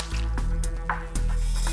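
A single liquid drop falling in a French-dubbed Totally Spies! cartoon scene: a brief, wet squishy drip set against a faint musical background.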